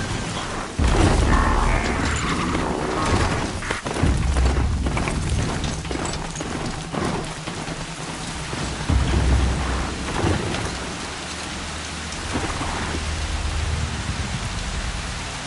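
Steady heavy rain with rolling thunder and deep booms in a stormy scene from the video game Horizon Zero Dawn, a loud, continuous downpour with no voices over it.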